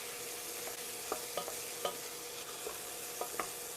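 Zucchini frying in a pan and being stirred, a steady close sizzle with a string of light scraping utensil knocks spread irregularly through it, no talking.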